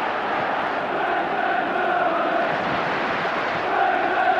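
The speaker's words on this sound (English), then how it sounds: "Listen to this crowd." A football stadium crowd at a 1994-95 Champions League night match between Manchester United and Barcelona produces a steady, dense roar and cheering that holds unbroken throughout.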